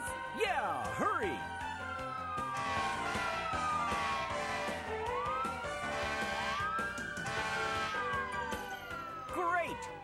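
Several emergency sirens from toy ambulances and fire engines wail and sweep up and down in pitch, overlapping one another with a busy background, loud and close.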